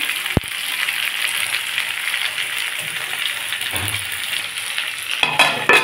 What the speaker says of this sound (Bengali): আমি এর মধ্যে আলু, পেঁয়াজ, টমেটো সব দিয়ে দিচ্ছি। এটাকে ভালো করে ভাজতে হবে।